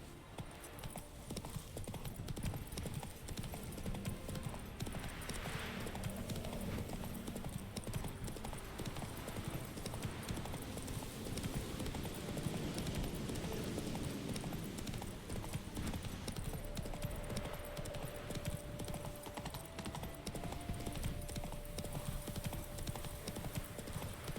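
Horse hooves pounding in The Witcher 3, a steady rapid gallop of clip-clop beats that carries on without a break, loud and close, with a faint whinny and game ambience underneath.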